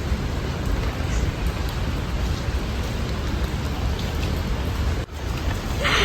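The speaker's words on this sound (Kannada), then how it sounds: "ಜಸ್ಟ್ ಇಲ್ಲೂ ಫುಲ್ ಫಾಗು, ಫುಲ್ ಸೌಂಡ್ ಬರ್ತಾ ಇದೆ ಫಾಲ್ಸ್ ಇಂದು. ಕೇಳಿಸ್ತೀಯಾ?" A waterfall in a foggy forest near Sirsi roars as a dense, continuous broadband wash, loud and unbroken throughout with no voices.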